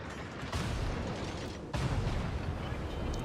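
Secondary guns of a Japanese tier 8 Kagero destroyer's opponent firing in World of Warships, a sustained rumbling barrage with two sharper bursts of impact, loud and close, with no speech.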